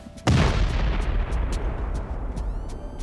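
C4 explosives detonate in Rust: one sudden, loud blast followed by a long, fading rumble, with faint clicking sounds near the end.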